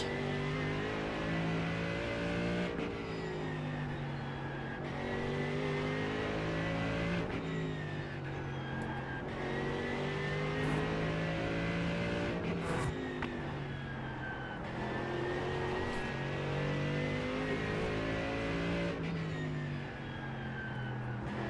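Race cars, a Ferrari among them, roar through a racing video game, steady engines whining through repeated gear shifts and revs, loud and continuous throughout with no talk.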